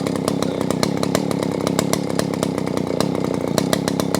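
A chainsaw engine runs loudly and steadily nearby, its rapid buzzing pulse continuous with no talking.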